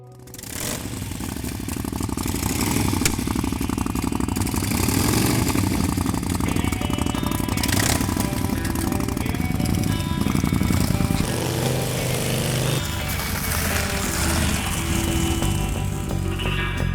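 Custom vintage-style Indian Scout motorcycle engine running with a slight flutter, a steady close rumble that holds for most of the stretch, then settles lower near the end.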